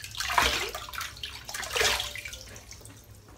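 Water splashed onto the face by hand before a cold shave, two bursts of splashing and dripping about a second and a half apart, close by, with a quieter trickle between them.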